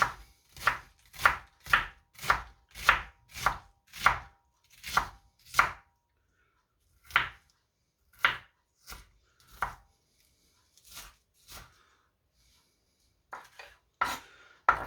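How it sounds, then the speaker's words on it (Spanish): Lettuce being chopped with a knife on a board for a prawn cocktail, a fast run of sharp, evenly spaced cuts that slows into scattered single chops, close and clear with no talk. "Las vamos a lavar bien, las vamos a secar y las vamos a trocear."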